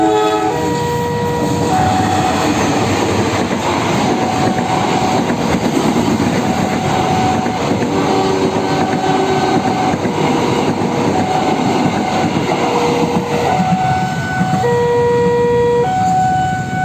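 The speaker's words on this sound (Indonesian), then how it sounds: "yuk sekarang kita akan menunggu kereta api Sri Tanjung." Sri Tanjung passenger train rolling past an automatic level crossing in Jember, a loud continuous rumble of wheels and wagons while the crossing's two-tone siren keeps sounding over it, with no talking.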